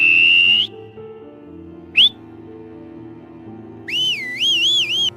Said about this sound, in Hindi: तभी अचानक से मुझे सीटी की आवाज़ सुनाई दी।